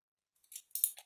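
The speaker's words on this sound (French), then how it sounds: "Hop, je coupe." Scissors make two or three quick, crisp snips, close and clear against near silence.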